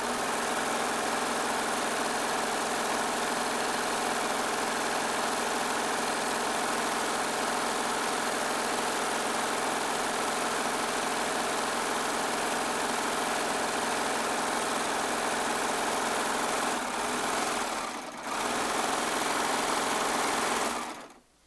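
A Baby Lock Triumph serger runs continuously while sewing a quilt top, a steady close mechanical whir that stops briefly near the end and then cuts off.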